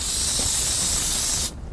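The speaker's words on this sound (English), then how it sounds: "Did you get a chance of how much spray I put in there?" Sticky spray adhesive hisses out of an aerosol can in one steady, close, loud burst that cuts off abruptly near the end, leaving only quiet room tone.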